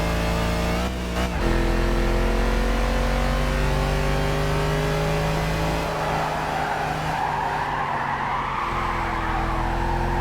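A Mercedes AMG big V8 in a small four-seater, in the Gran Turismo 5 racing game, holds a loud sustained engine drone and revs, with a brief dip and tyre squeal as it accelerates.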